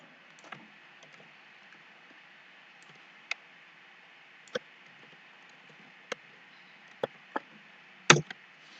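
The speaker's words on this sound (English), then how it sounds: "We'll type the employee number." Sparse keyboard typing at a computer during an Oracle SQL lab: isolated, faint clicks spaced a second or more apart over a quiet hum, ending in a louder cluster of keystrokes.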